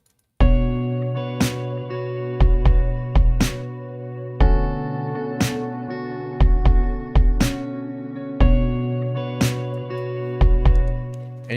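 Keyboard synthesizer plays a repeating phrase sequence an octave higher, rhythmic stabbed notes with strong attacks over sustained tones, loud and clear with no voices.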